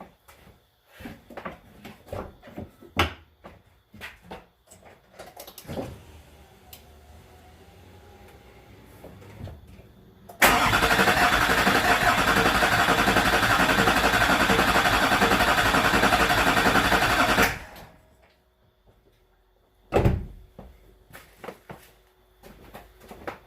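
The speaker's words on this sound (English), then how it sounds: "So here's a new injector cold start, I guess you'd say." A Duramax diesel engine with a new injector cold-starts and roars loudly and steadily for about seven seconds, with scattered clanks and knocks before and after, then cuts off into near silence.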